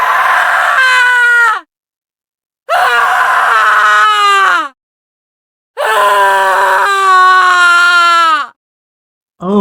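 A woman in the woods lets out enormous screams, three long piercing wailing shrieks with falling pitch, loud and close, separated by silent gaps.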